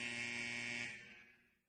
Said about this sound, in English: I'm shocked the buzzer even worked there.